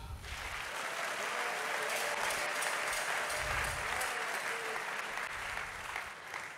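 A church congregation claps and cheers in praise during a French-language sermon, with dense, steady applause filling the whole stretch at an even, close level.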